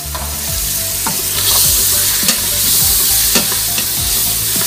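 Ground meat sautéing in an Instant Pot, with a steady close sizzle and repeated scraping stirs of a utensil against the pot, no talking.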